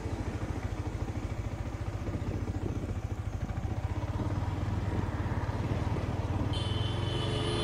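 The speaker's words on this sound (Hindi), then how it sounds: "तो चलो बाइक चालू हो गया है, अभी निकलते हैं और रास्ते में बात करते हैं।" Engine of a Yamaha MT-15 V2 motorcycle running steadily and close, a dense throbbing drone with rapid pulsing that holds even throughout, no talk heard.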